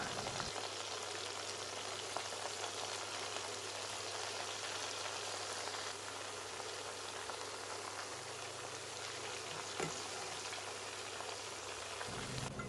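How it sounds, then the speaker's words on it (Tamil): Corn kernels deep-frying in oil over a medium flame, a dense, even crackling sizzle like steady rain that runs on unbroken, moderately quiet and with no voices. "மீடியம் ஃப்ளேமில் வச்சுட்டு நம்ம நல்லா கிறிஸ்பி ஆகிற வரைக்கும் பொரிச்சு எடுத்துக்கலாம்"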